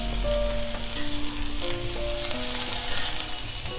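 Cumin-seasoned boiled potatoes with a handful of chopped fresh coriander being stirred and fried in a pan, a steady close sizzle with soft scraping throughout and no voices.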